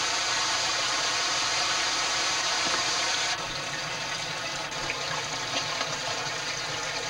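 Stream water gurgling and rushing down a crack in the floor into the lower passage of Kaumana Lava Tube, a continuous close wash of flowing water that drops slightly in level partway, no talk.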